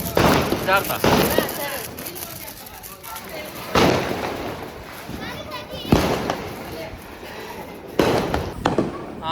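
Diwali firecrackers burst at home in a series of sharp, loud bangs spaced a couple of seconds apart, each followed by crackling fizz, close by, with people talking and children's voices throughout.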